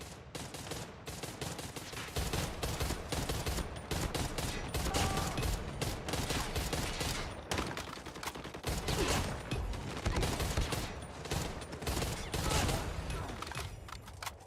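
Rapid hip-fire gunshots in the Call of Duty Mobile video game during a world championship finals watch party, bursts of shooting running nearly nonstop across the clip with a voice faintly talking beneath.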